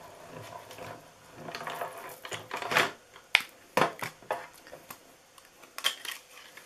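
A die-cutting and embossing machine cranks paper through for Christmas treat holder snowflakes, giving faint mechanical ratcheting and clicking with a few sharper clacks and knocks, quiet and close with pauses between bursts.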